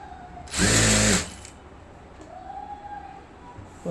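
A sewing machine stitching a blouse back piece, one loud motor run of about half a second, then quiet with faint fabric handling.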